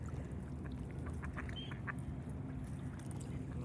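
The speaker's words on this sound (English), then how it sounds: "Little duck with me right here" A duck quacks in a few soft, brief calls near water among a showing of marine birds, faint over a steady low rumble of wind or engine.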